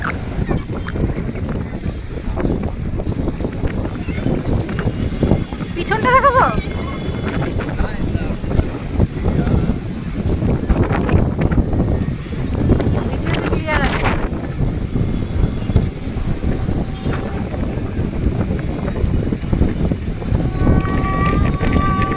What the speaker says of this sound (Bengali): প্রচন্ড হাওয়া, ঝড় উঠে গেছে